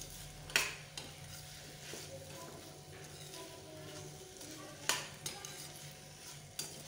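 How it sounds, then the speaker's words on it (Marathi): Potato pieces stirred into a spicy Kolhapuri masala in a pan: soft, quiet scraping and stirring with a low sizzle and a few sharp clinks of a spoon against the pan, close but faint. "व्यवस्थित मिक्स करून हलवून घ्यायचं एकजीव करून।"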